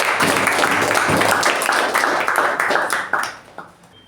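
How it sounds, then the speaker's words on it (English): Applause for a speaker at a Toastmasters club meeting, dense and loud clapping from a crowd that holds steady, then thins out and fades away over the last second. "A huge, thunderous round of applause for Toastmaster Aparna"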